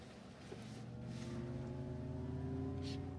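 Synthesized sporty drive sound for a Xiaomi electric car, built from 110 layered tracks, a faint steady engine-like hum with rising harmonic tones that swell gradually over a few seconds, heard alone.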